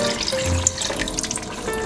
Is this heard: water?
yes